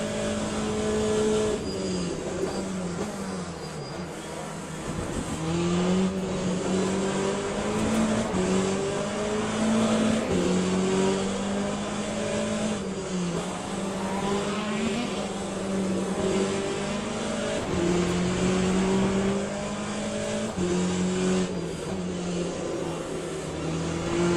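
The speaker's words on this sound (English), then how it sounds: "here comes some more hypercars" Race engines of hypercars in the video game Le Mans Ultimate, several high-revving cars rising and falling in pitch as they race past one after another, loud and continuous throughout.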